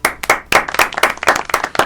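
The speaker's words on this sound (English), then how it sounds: "Can you add applause?" Applause sound effect dropped into a women's Christian podcast: a short burst of dense, bright clapping from a crowd, loud and close, rising and falling in uneven surges with no talk over it.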